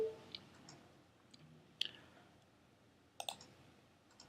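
Faint mouse clicks during a computer email autoresponder setup: a few sharp, isolated clicks spaced seconds apart over a quiet background.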